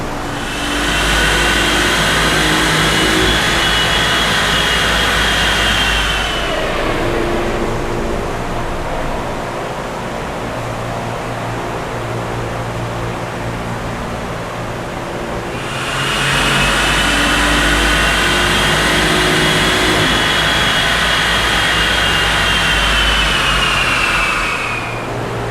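A tuned BMW i8 on a dyno revs hard in two long sustained pulls, engine roar climbing and holding loud, separated by a quieter stretch of lower running noise between runs.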